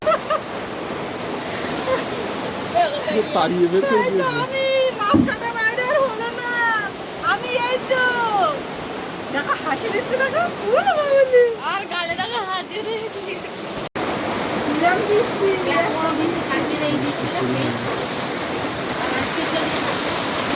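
Heavy rain with big drops falls beside a river in the Sundarbans, a steady loud patter and wash throughout, while someone talks over it for much of the stretch.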